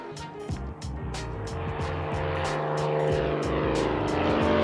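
Aircraft engine noise drifts across an airport runway viewed from a balcony one story up, a steady broad roar with a low droning hum and repeated sharp ticking transients throughout, continuous and moderately loud with no talking.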